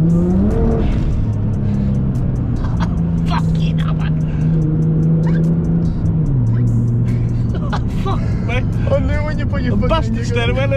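An 800bhp Nissan GT-R, four-wheel drive, accelerates hard under load, its engine note climbing and then dropping sharply at a gear change before it pulls again. Loud and close from inside the car, with people talking over it.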